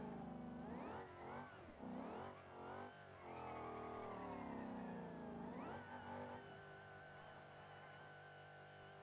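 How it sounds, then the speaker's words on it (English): A Gavril Kodiak truck in a racing video game revs hard through repeated burnouts, its engine pitch surging and dropping in several bursts before easing off to a lower idle. No one speaks over it. "I bet you this thing does some sick burnouts"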